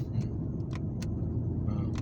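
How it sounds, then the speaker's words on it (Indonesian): BMW E46 engine is blipped repeatedly up to about 2000 RPM, giving a steady low rumble with small surges, heard from inside the car with faint clicks over it. "ini gugas berulang-ulang sampai RPM-nya nyentuh 2000 ya"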